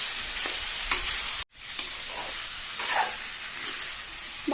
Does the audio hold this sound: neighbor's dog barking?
no